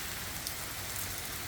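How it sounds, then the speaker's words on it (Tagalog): Heavy rain pours down on a morning, hissing in a continuous, even wash of drops striking surfaces, with no voices. "Ang lakas ng ulan."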